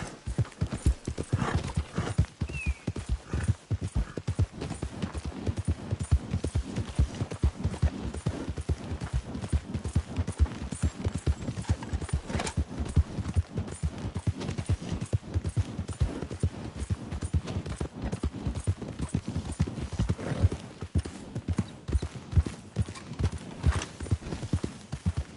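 Horse hooves clip-clop steadily in a quick riding rhythm throughout Red Dead Redemption 2 gameplay, close and continuous, with a brief whinny-like sound at moments.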